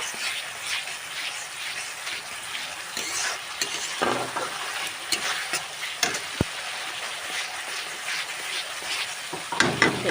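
Ginger garlic paste frying in a pan while being stirred, a steady close sizzle with scraping stirs and a few sharp clinks of a utensil, no talking.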